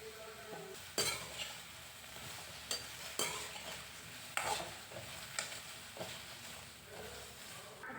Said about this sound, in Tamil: இப்போ வந்து நல்லா வெண்டைக்காய் வந்து நல்லா வந்து வதக்கிடலாம்